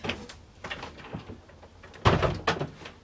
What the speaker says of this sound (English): let's get this door properly propped